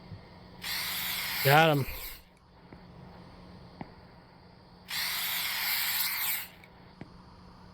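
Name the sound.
rat killer spray hissing in a video game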